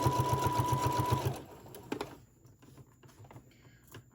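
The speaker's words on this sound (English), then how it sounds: "I'm just gonna sew, trying to keep my presser foot lined up with the edge of my fabric there." Sewing machine stitching the fabric edge of a DIY mask with a pocket, a fast, close, rhythmic mechanical whir for just over a second before it stops, leaving faint handling clicks and rustles.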